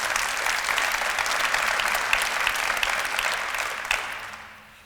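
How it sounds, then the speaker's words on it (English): Audience applause at an athletics expansion news conference, a full, sustained burst of many clapping hands that holds steady, then fades out over the final second. "Let's give him a big round of applause"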